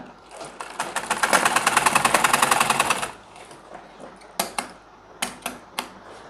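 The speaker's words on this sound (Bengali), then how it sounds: "এবার সোজা হাফ ইঞ্চি ভিতর দিয়ে বরাবর সেলাই করব" A sewing machine stitches pajama trousers with a fast, steady rattle for about three seconds, then stops. A few short bursts of stitching follow, each one separate.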